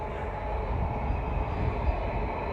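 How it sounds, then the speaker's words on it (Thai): A train passes nearby in Norway beside a parking lot, giving a steady, loud rumble and rolling roar that holds throughout with no voices. "รถไฟวิ่งมาพอดีเลย"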